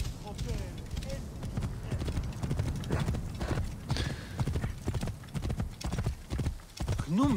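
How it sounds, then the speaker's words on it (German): Horse hooves clip-clop at a steady walking rhythm in Assassin's Creed Origins, close and fairly quiet, with a brief whinny and game dialogue and music sounding alongside. "ich nehme jetzt auch dein Pferd"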